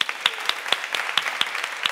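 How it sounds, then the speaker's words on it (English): A university debating society audience gives a round of applause after a guest talk, dense overlapping claps at steady loudness filling the room, with no talking over it. "if you could join me in giving Dylan a very good round of applause"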